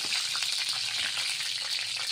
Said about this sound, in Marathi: तेल गरम होत आलेलं आहे, त्यामध्ये थोडं जिरं टाकायचं